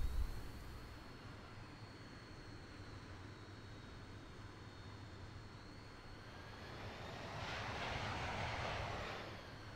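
Steady aircraft engine drone in the flight simulator Infinite Flight, a continuous hum with a rising whine that swells louder toward the end, as if throttle increases, with no talk.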